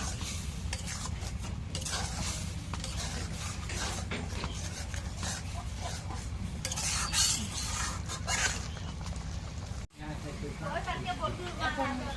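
Ginger, garlic and cumin paste stirred and fried in a pan for a Bengali home-style dish, a steady scraping and sizzling that runs throughout with utensil clinks against the pot, brief pause near the end.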